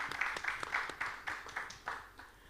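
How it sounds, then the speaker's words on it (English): An audience at a youth panel discussion gives a short round of applause, a sparse scattering of claps in loose rhythm that tapers off within a few seconds. "Everyone, please, I think they deserve a round of applause."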